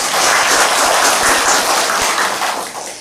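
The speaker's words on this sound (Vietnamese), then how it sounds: "tròn tràng pháo tay đi" A crowd applauds steadily, a dense wash of clapping that fades slightly toward the end.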